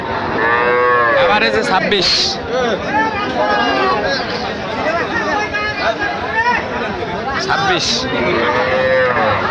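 Sahiwal cattle, including heifer calves, low repeatedly at a busy village livestock market in Dinajpur, with loud drawn-out moos rising over nearby bargaining voices and crowd chatter.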